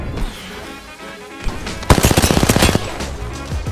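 Rapid burst of submachine gun fire in Apex Legends, a loud rattling string of about a dozen shots following quieter game sounds, with no talking.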